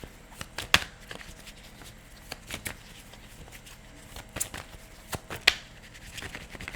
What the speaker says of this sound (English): Gotta wait for the right shuffle.